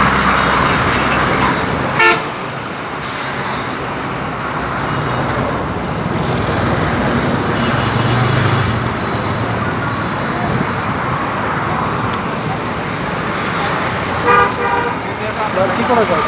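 Busy city street traffic heard from the roadside while walking, with a constant roar of cars and buses and a few short car horn toots breaking through, a voice talking over the noise.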